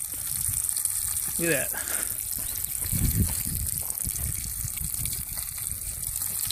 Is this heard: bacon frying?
yes